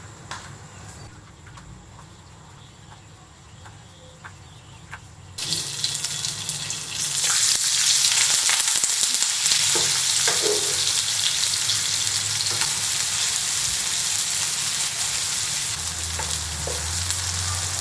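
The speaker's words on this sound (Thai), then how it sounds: "หั่นแล้วก็เอาไปทอดก่อนนะ" Sliced tofu dropped into hot oil in a home kitchen bursts into a loud, steady sizzle and crackle that fills the second half, after a quieter start with faint kitchen clatter.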